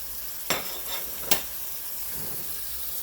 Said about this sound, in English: I think I'm going to go ahead now and add my Brussels sprouts